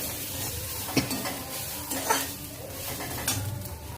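Sautéing in a pan for chickpea sundal: a faint, steady sizzle with a few sharper scrapes and knocks of a stirring spoon against the metal, close by with no voices.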